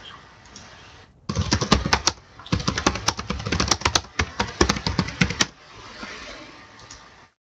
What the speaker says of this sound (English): Sorry, but that typing's a bit loud.